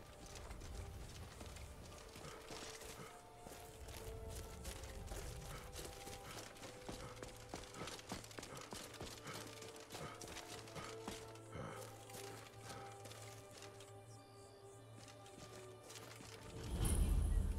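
Horse hooves clip-clop at a steady walking rhythm in the video game Skyrim, moderately quiet beneath a background music bed, with a louder burst near the end.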